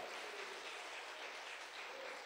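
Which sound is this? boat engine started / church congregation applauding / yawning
church congregation applauding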